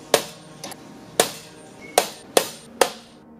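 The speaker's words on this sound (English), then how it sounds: "A quick tap of the hammer, and I get a nice mark in the aluminum." A hammer taps a metal scoring tool into aluminum during metalwork, six sharp separate strikes with one lighter hit, close and clear with short ringing decay and no talk.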